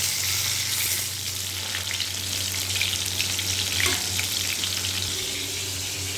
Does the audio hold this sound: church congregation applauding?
no